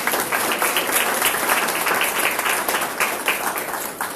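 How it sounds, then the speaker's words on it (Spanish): Audience applause for a panel on the Honduran labor market, a dense, steady round of many hands clapping, fairly loud and close, with rapid overlapping claps that ease slightly near the end, no talk over it. "Voy a pedir un aplauso para el panel."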